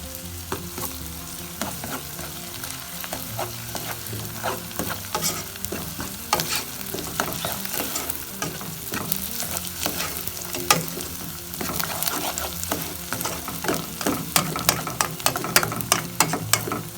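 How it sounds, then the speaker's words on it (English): Garlic and ginger paste is stirred into onions frying in a pan for an Indian vegetarian lentil dahl, giving a loud continuous sizzle and frequent rhythmic scraping of a spoon against the pan, close up and without speech. "this is the perfect time to add the garlic and ginger paste"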